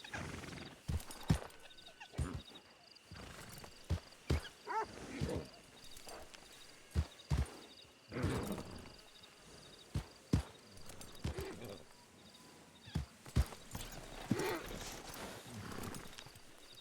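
Boots, a horse in the game WildRP, walks with clear repeated hoof clip-clops at an uneven pace over a steady ambient background, with occasional louder hits.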